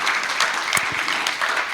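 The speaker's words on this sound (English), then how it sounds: "A round of applause." Audience applause at a storytelling event, a dense steady patter of many hands clapping throughout, with a few louder claps standing out.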